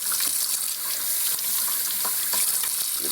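Tap water runs steadily into a sink over cut-up rabbit pieces being washed, a close, continuous splashing hiss with small uneven spatters and no talking.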